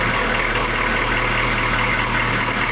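A US military Humvee engine idles in neutral during a workshop service, a steady continuous low rumble with a broad even hum that holds at constant loudness throughout, close by and with no talk.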